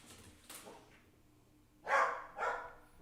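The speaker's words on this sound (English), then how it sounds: "Dog's barking." A dog barks twice, fairly distant and faint, in two short separated bursts near the end after a quiet stretch, with no speech over it.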